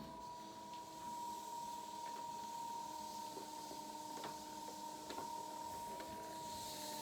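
A trimming tool shaves clay from a bowl turning on a potter's wheel, giving a steady whirring hum with faint scraping and occasional soft ticks, close and quiet, with no talk.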